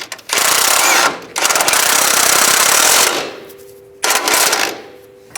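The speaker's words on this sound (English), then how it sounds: "Now we can tighten the lower bolt." A pneumatic impact wrench runs down the lower bolt on a Nissan Xterra CV axle in three loud, close bursts of rapid hammering separated by short pauses.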